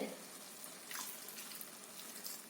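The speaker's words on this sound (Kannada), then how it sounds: "ಒಂಚೂರು ನೀರು ಹಾಕ್ತೇನೆ" A little water is poured into a pan of cooking taghate greens and boiled jackfruit seeds, a soft, faint watery wash lasting a couple of seconds with no talk over it.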